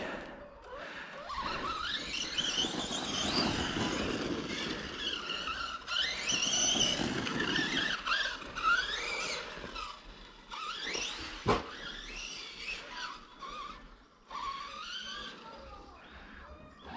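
Pro-Line Pro MT 4S electric RC truck driving laps around an outdoor circuit, its motor whining and tires scrabbling at close to mid range with shifting pitch, a few sharp knocks and bumps, some faint talk in the background.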